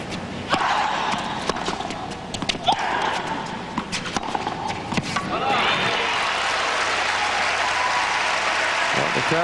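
Crowd at the 2005 US Open quarterfinal between Kim Clijsters and Venus Williams applauding in a tennis stadium, a steady wash of clapping with sharp thumps and a commentator's voice over it, swelling louder midway.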